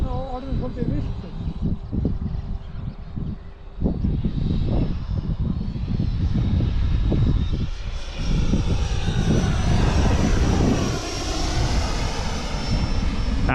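E-flite Viper 90 RC model jet flying at an airfield, its turbine-like whine loud and sustained with a rising, sweeping pass, while people talk over it.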